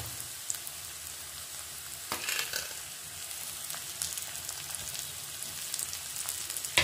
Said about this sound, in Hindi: प्याज हमारा फ्राई हो गया है और देखिए ऐसा कलर चेंज हुआ है। और अभी हम इसमें टमाटर और अदरक लहसुन का पेस्ट डाल देंगे।